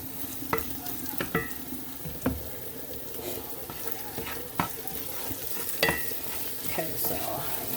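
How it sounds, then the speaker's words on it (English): Tomato and pepper mixture for jollof rice bubbling down in a pan, a soft continuous simmer with occasional sharp utensil taps and scrapes, no voices. "That's the tomato pepper mixture reducing down."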